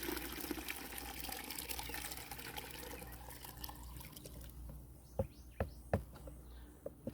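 Dark garden liquid carrying insect castings is poured from a pail into a container, giving a steady close splashing stream that thins out into a few distinct drips.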